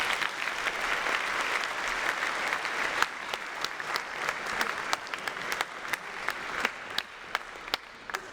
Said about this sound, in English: Let's give one more round of applause for Tanya